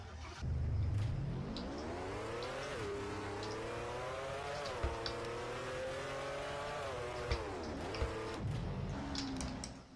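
A car engine in the Roblox game Car Dealership Tycoon starts up and settles into a steady, droning hum that rises and falls in pitch across the full ten seconds, with a few sharp clicks along the way.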